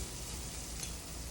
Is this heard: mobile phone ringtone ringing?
no